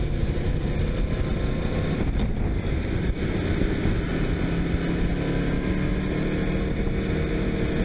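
A 2018 Aprilia RSV4 RF sport motorcycle being ridden, with steady loud engine and road noise buried under constant heavy wind rush across the microphone, no voices.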